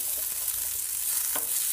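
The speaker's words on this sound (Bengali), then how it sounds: "এখন সবজিগুলো হালকা নাড়াচাড়া করে" Vegetables for chicken stew frying in a pan while being stirred, giving a steady close sizzle with a few soft scraping strokes, no voices.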